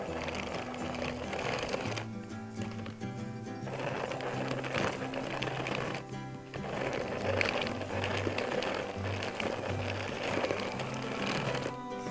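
An electric mixer whirs steadily as it blends dough with brown sugar, a continuous mechanical hum with slight changes in pitch and brief pauses, fairly close and alone.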